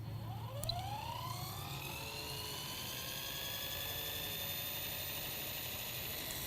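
A model helicopter's rotor spins up at half throttle trim, giving a steady close whir with whining tones that climb and then hold, alone with no talk.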